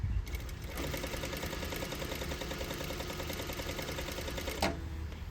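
A sewing machine stitches an under stitch along a convex fabric curve, with a close, fast needle chatter in a steady run, briefly pausing near the start and again near the end for the back stitch.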